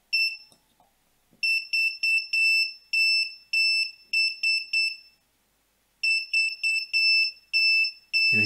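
An Arduino passive electronic buzzer beeps out SOS in Morse code, three dots, three dashes, three dots, then repeats after a pause; clear and close.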